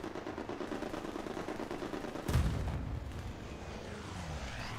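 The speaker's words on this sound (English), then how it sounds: "Strafing run comes in" Video game strafing run: rapid machine-gun fire under a broad battle rumble, then a heavy impact burst about halfway through that fades into ongoing distant combat noise, fairly quiet overall.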